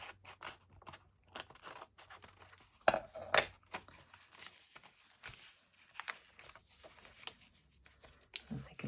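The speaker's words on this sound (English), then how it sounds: "I've just got the scissors out" Scissors snip while a field notes journal is being put together: a couple of crisp, close cuts stand out near the middle amid quiet handling and rustling.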